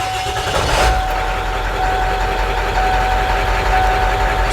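A Ford E350 truck engine with an ABS fault turns over with a brief burst at the start, then settles into a steady close idle with a faint high whine running through it.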